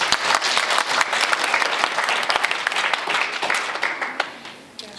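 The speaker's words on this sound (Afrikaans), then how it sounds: "Geef hom aan 'n klap." An audience claps loudly for a freed man, a dense burst of hand claps with sharp individual slaps that gradually thins and fades toward the end.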